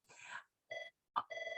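Office telephone ringing in short electronic trilling bursts, faint and a little distant, with gaps of silence between rings and no talk.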